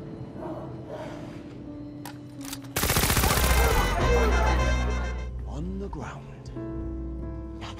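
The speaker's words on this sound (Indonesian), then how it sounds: "Raymond pun akhirnya mengeluarkan senapan mesinnya." Machine gun fire in a film scene erupts suddenly as a loud, dense rattling burst partway through, following quieter voices and music, then fades back under speech and score.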